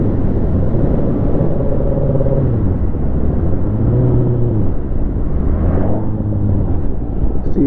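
A vehicle engine shifts down while riding, its pitch dropping and climbing again in several curved sweeps under steady road rumble and wind, close and continuous.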